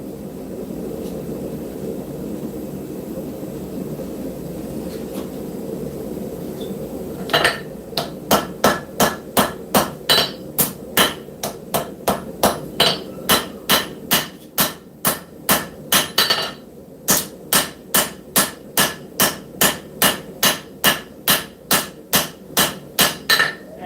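A doghead planishing hammer evens out the thickness of forged metal with a long run of sharp, ringing blows in a steady rhythm, starting after several seconds of low shop hum and briefly pausing once before resuming.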